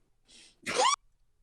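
A single close sneeze, opening with a soft breathy intake and then a sharp, loud burst that ends abruptly, followed by quiet.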